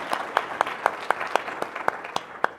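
Hands clap in a steady, even rhythm at a local sustainability summit panel, sharp and fairly close, like a small group clapping in time rather than a full ovation.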